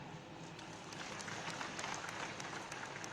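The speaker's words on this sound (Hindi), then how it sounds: "अब ताली तो आपने बजाई" An audience applauds at the inauguration of the new Tezu airport terminal in Arunachal Pradesh, producing a soft, steady wash of clapping that sounds distant and faint.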